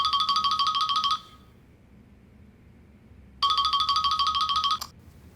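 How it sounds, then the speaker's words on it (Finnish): A smartphone ringtone plays two bursts of a bright repeating electronic melody separated by a quiet pause, the second cut off abruptly. "Tämä soi."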